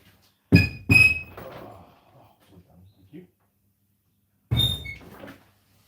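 A house door is opened for a visitor: a creak-and-thunk cluster early, faint shuffling and soft knocks after, then another squeaky open-or-close sound near the end, all fairly close with no speech.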